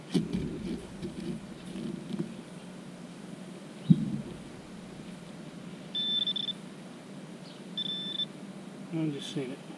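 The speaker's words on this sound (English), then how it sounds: "It's more of a blip on the Simplex." A Nokta Simplex metal detector gives short electronic blips on a target in a park, two brief beeps a couple of seconds apart amid quiet outdoor ambience and light talk.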